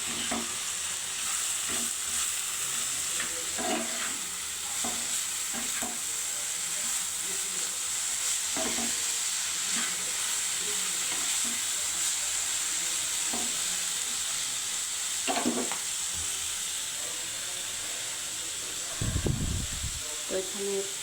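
Bottle gourd peels fry in hot oil in a pan, a steady loud sizzle with repeated scraping strokes of stirring, and a low thump near the end.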